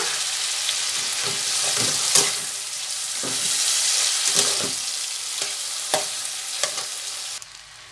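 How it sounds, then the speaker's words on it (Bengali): Cauliflower, potato and chopped tomato fry in a pan with a continuous loud sizzle, broken by several clinks and scrapes of a spatula stirring the pieces around; no one speaks. "ফুলকপি আলু ভাজা ভাজা হয়ে গেছে এবার দিয়ে দেবো কুচি করে রাখা টমেটো"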